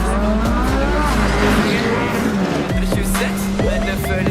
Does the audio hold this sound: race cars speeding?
yes